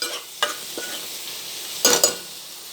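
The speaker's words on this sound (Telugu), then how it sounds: "టమాటా కర్రీ ఇంకా మంచిగా ఉడకనియాలి." Tomato paneer curry cooking in a pan, giving a soft steady sizzle with a few scraping stirs of a spoon against the pan, close and clear.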